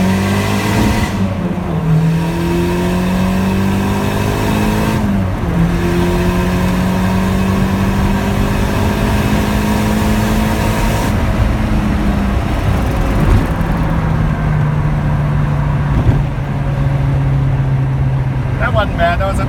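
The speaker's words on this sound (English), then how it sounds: "So we're in second gear here, and I'm going to run it up." A Callaway Rabbit engine pulls hard in second gear, a loud continuous drone whose pitch climbs steadily with brief dips at gear changes, heard from inside the car.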